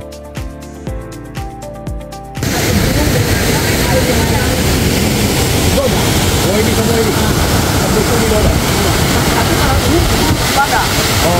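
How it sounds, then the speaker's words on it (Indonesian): Small waterfall at Betawa village, Kolori, Lore Barat, Poso, Central Sulawesi, a loud steady rush of falling water that begins abruptly after a few seconds of quieter sound and then continues unbroken. "Penampakan mini waterfall Betawa Desa, Kolori Lore Barat Poso Sulteng"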